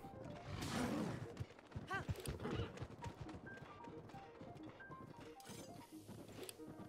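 Horse hooves in Zelda: Breath of the Wild clop in a quick run of steps early on, then fade under game music tones and a talking voice.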